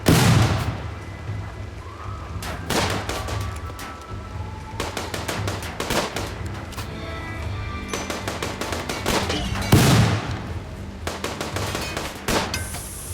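RimWorld gunfire aimed at a turret crackles in dense, rapid strings of shots, steady and fairly loud over a continuous noisy backdrop, with a couple of heavier bursts standing out.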